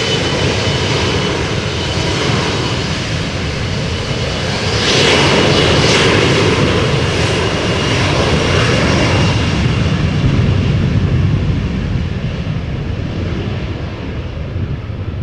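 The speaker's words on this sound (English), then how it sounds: "This is an Embraer 175" An Embraer 175 jet on the ground at Amsterdam Schiphol airport in a gusty crosswind gives a loud, continuous engine roar that swells slightly midway, with wind buffeting the microphone and no talk.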